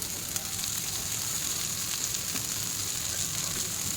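Eggplant slices fry in a pan with a little oil, giving a constant, close, even sizzle that holds at steady loudness throughout, with no voices.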